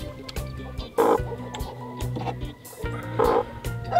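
Broody hen sitting on eggs, clucking close by in short, throaty bursts with brief pauses between them.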